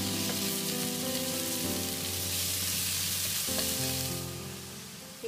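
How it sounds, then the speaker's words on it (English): Minced meat stir-frying in a hot wok with curry paste for Thai pad kra pao, a steady close sizzle with some stirring throughout, easing off near the end with a single clink. "Add the minced meat bit by bit,"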